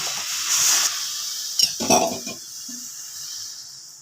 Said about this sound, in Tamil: சின்ன கிளாஸில் ஒரு கிளாஸ் அளவுக்கு தண்ணி ஊற்றிக்கலாம்